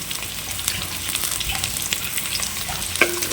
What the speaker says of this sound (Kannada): ಕಟ್ ಮಾಡಿ ಇಟ್ಕೊಂಡಿರುವಂಥ ಈರುಳ್ಳಿಯನ್ನು ಹಾಕ್ತೇನೆ